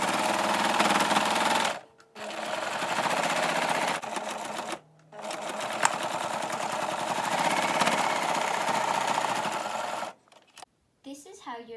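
A sewing machine stitches pieces of a stuffed animal together, running in long steady bursts of rapid close-up whirring separated by short pauses, with a few clicks and handling noises at the end.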